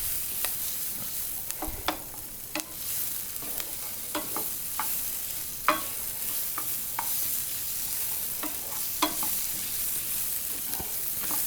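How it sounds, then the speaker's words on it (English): Onions and bacon fry in melted lard in a pan while being stirred, a steady sizzle broken by repeated scraping stirs and clicks, close and alone with no talking. "So we want to get this lard mixed in here really good."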